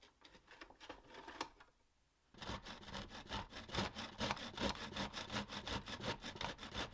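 A hand saw cuts wood in a miter saw guide, its close, rhythmic strokes rasping back and forth, pausing briefly, then resuming faster and louder.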